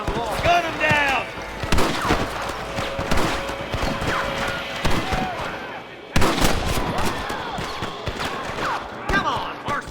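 Gunfire in Red Dead Redemption, a dense stream of sharp shots and ricochets that rings out near and loud through a chaotic fight, with shouting voices over it.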